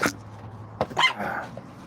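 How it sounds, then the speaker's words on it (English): A female dog gives a sharp, high-pitched bark at the start, then a second shorter yelp, close by in a quiet indoor room. "That high-pitched fucking bark she's got"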